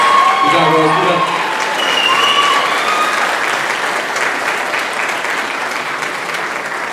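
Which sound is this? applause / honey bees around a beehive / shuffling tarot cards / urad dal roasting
applause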